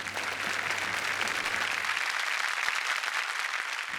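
Studio audience applause on a Marathi comedy talk show, dense sustained clapping from a large crowd, close and even for the whole stretch.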